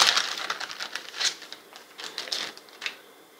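A roll of easy-tear double-sided adhesive tape is pulled and torn by hand, making a quick close series of dry crackling, ticking snaps used for a Christmas craft project.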